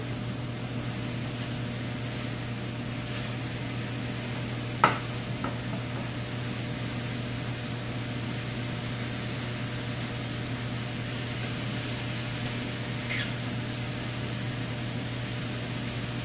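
Tomatoes, zucchini and squash sizzle steadily in a skillet, a soft continuous frying hiss with a low background hum and a single brief clink partway through.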